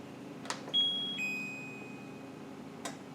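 A digital timer being set during home beer brewing gives two short electronic beeps at slightly different pitches, faint against a quiet room hum, with a couple of soft clicks around them.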